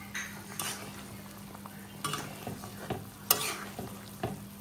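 Potato and eggplant curry with eggs added, simmering in a pot with quiet bubbling under repeated stirring scrapes and light utensil clinks against the pot, close and soft.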